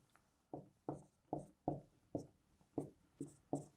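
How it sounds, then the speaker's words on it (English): Pen or pencil strokes scratching across paper, about nine short separate scrapes falling in a steady rhythm, close up and fairly quiet with no speech. "I should write this down."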